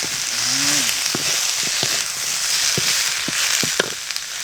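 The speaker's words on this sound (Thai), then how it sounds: "ใส่มะเขือกับมะเขือพวงครับ ใส่ลงไปก่อน แล้วก็คนครับผม" Eggplant and pea eggplants are stirred in a hot pan for a spicy stir-fry, giving a steady loud sizzle and hiss broken by a few sharp pops and scraping knocks of the spoon.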